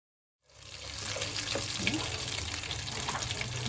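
Belacan dropped into hot oil in a pan starts a steady, soft sizzle that rises from silence and keeps crackling faintly and evenly, with no one speaking.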